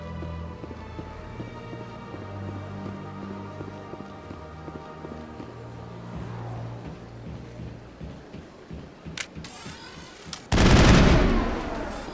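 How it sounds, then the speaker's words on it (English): Rapid gunfire in the Presidium in Mass Effect, a dense run of quick shots rattling on for several seconds, then a sharp burst and a loud, roaring blast near the end. "let off some rounds in middle of Presidium"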